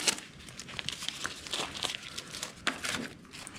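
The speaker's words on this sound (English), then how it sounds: "I'm gonna remove the tape we have over the intake" Tape is peeled off the engine air intake of a Yanmar 2210 tractor, giving irregular crinkling and tearing crackles that come in short bursts, close and moderately quiet, with no talking.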